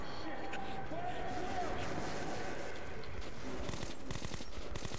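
Gunfire aimed at mutants in the video game Metro 2033, dense continuous bursts of automatic shots heard up close, with a voice talking over the shooting throughout.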